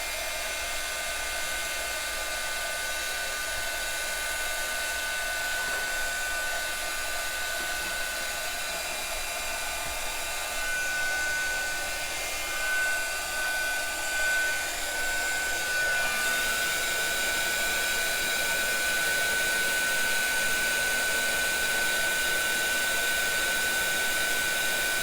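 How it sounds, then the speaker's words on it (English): Heat gun held in one spot to melt embossing powder on a handmade Stampin' Up card, a loud steady close blowing roar with a faint high whine, continuous throughout with no talk. "So I'm keeping my heat gun in one spot until I see it change, until I see it's heated up."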